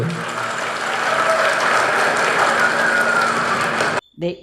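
Loud, sustained applause from a crowd at a political gathering in Kerala, a dense wash of clapping lasting about four seconds before cutting off abruptly.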